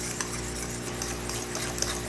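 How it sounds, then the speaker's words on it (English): Steady whisking of eggs in a bowl while hot milk is poured in for a non-alcoholic Trinidad eggnog, a continuous close scraping swish with no pauses or voices. "So while whisking, we're just going to continue adding."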